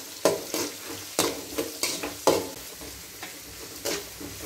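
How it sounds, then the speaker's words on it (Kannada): Onions frying in a pan for a breakfast dish, a steady sizzle broken by repeated sharp scrapes of a spatula stirring, close and fairly loud with no talking. "ಉಳ್ಳಾಗಡ್ಡಿ ಚಂದಗೆ ಫ್ರೈ ಆಗಲಿ"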